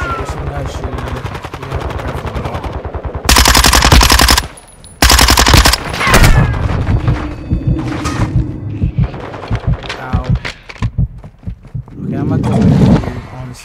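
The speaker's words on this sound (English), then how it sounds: "there's some guy shooting me" Loud, close machine gun fire in Call of Duty MWII rattles in sustained rapid bursts, then breaks into shorter volleys and scattered shots while a player talks over the action.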